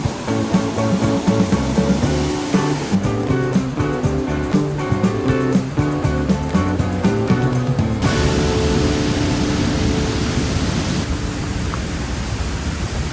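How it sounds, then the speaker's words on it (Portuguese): A waterfall at Baños, Ecuador, roars with a steady, dense rush of water, loud and continuous, heard under background music with no talk. "Não dá nem pra falar perto das cascatas pela força da água."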